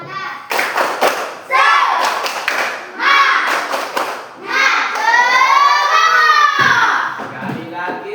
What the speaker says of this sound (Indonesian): Kita tepuk semangat sekali lagi.